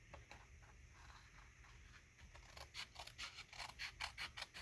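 Quiet, close snipping and crisp scraping of scissors cutting paper, the cuts coming in a quick rhythmic run near the end.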